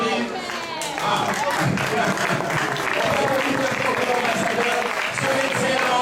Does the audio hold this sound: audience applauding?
yes